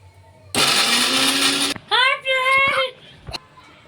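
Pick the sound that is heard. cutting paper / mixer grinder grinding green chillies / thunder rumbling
mixer grinder grinding green chillies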